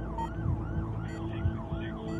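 Ambulance or fire truck siren wailing in a loud, rising-and-falling electronic sweep that repeats about three times, accompanied by a low engine rumble and no voices.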